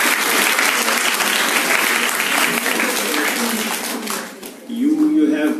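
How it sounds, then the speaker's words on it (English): Loud, sustained applause from a large crowd at an English debate event, many hands clapping densely together, thinning slightly near the end before swelling again. "Please clap for yourself."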